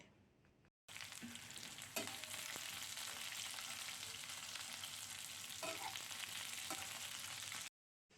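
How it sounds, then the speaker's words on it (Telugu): Onion pieces and garlic cloves frying in hot oil for a ginger chutney, a dense steady sizzle close up with a few stirring knocks, cutting off abruptly near the end. "ఉల్లిపాయ ముక్కలు కూడా అలాగే వెల్లుల్లి రెబ్బలు కూడా వేసుకొని వేపుకోవాలి"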